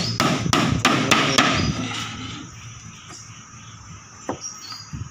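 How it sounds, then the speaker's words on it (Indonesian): A hammer drives nails into wood, about six sharp, evenly spaced strikes close by, then a pause and one more distant knock, with crickets chirping steadily underneath. "Bubuh kayu macam ini itu dipaku kanan kiri jadi siap macam ini."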